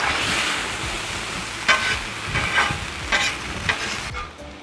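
Cheesesteak meat sizzles steadily on a Blackstone flat-top griddle, a continuous close hiss broken by several brief scraping stirs as the meat is pushed into a pile.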